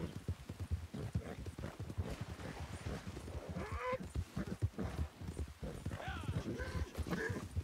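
Horse hooves clip-clop steadily in Red Dead Online as the horse roams West Elizabeth, with a quick, even rhythm of close, dry knocks over game ambience and faint voices.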